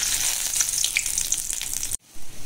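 Whole garam masala, cloves, cardamom, cinnamon and bay leaf fry in hot oil with a loud, dense sizzle that breaks off abruptly near the end.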